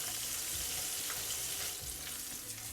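Steady, crackling sizzle of squid deep frying in hot oil for a second fry, close and continuous with soft popping throughout.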